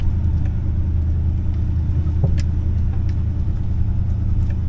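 An old truck that sat parked for 15 years rumbles along in a low, steady drone, with faint clicks and rattles over the continuous engine noise.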